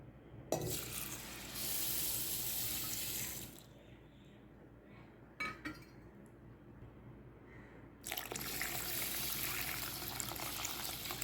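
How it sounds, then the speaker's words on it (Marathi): Water pours from a tap onto millet grains in a vessel for washing, two bursts of steady gushing separated by a quieter pause with small splashes, no voices. "त्यामध्ये आपण चांगलं पाणी घालणार आहोत"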